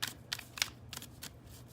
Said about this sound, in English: shuffle this deck as well